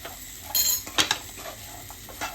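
Chana masala being stirred in a pan: a few quick scraping and clinking strokes of a spoon against the metal, with a faint sizzle between them, close and fairly quiet.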